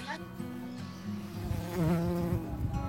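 Stingless trigona bees buzzing close by in an urban setting, a wavering insect drone that rises and swells toward the end, with faint talk in the background.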